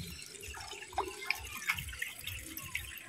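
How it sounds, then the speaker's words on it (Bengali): Water splashes and trickles as a birds' water pot is rinsed out, with small drips and sloshes over a low background hum, close and fairly quiet. "সেজন্য আমি পটটিকে ভালো করে ধুয়ে নিচ্ছি"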